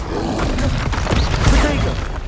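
Blasting-spell explosion from the Hogwarts Legacy video game, a dense booming roar with a crashing burst peaking midway, loud and continuous over a low rumbling bed of game combat noise.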